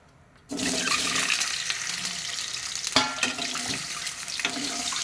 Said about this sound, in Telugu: ఇప్పుడు నూనె వేడి అయిపోయింది కాబట్టి మనం ఇంకా ఉడకబెట్టుకున్న గుడ్లు వేసేసుకున్నాం